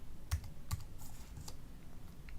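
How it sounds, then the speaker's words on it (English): Computer keyboard typing, a few sharp key clicks spaced out over a quiet room background, close and fairly faint. "So to find Steve, I would type in person dot notation and siblings"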